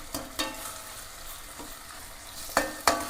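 Tomatoes fry for a mushroom gravy under a soft, steady sizzle, while a spoon scrapes and knocks against the pan a few times near the start and end.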